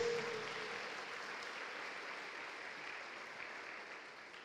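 Congregation applause during a Portuguese-language church sermon, a steady wash of many hands clapping at moderate distance that slowly fades over four seconds.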